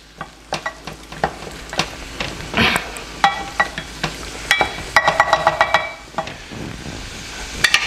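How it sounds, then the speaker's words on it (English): Spring onions fry in a generous amount of butter for Irish colcannon, crackling and sizzling up close while a spoon taps and scrapes the pan in quick, uneven strokes, no voices. "And now we're adding the spring onions"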